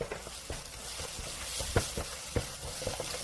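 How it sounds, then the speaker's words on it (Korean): Beaten eggs being stirred as scrambled eggs in an oiled frying pan over medium heat, with a soft steady sizzle and repeated scraping knocks of a spatula against the pan. "계란을 붓고 중불에서 저어가며 익혀주세요."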